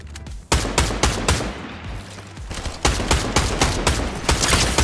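Gunfire in a competitive shooter video game: rapid bursts of automatic shots crackle in quick clusters, some loud and close, others fainter, continuing steadily with brief pauses between volleys.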